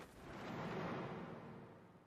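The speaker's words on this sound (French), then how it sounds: "Explosion!" A Naruto Shippuden anime explosion effect gives a faint, broad whooshing blast that swells and then tails off over about two seconds.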